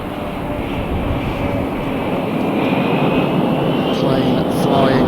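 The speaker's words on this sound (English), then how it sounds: "Plane flying over." A fixed-wing airplane passes overhead at a golf course, a steady broad engine roar that swells slightly louder over several seconds, heard from a distance under open outdoor ambience.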